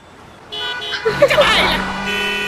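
A car horn toots at a traffic signal, with short bright honks rising out of a traffic scene while a voice talks over the noise.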